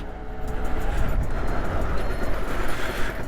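A 1988 Suzuki Gemma 50 vintage scooter engine pulling in second gear while riding: a steady, close motor drone with rushing wind noise and no talk.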